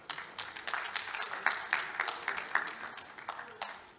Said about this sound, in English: Please, a round of applause for Chris.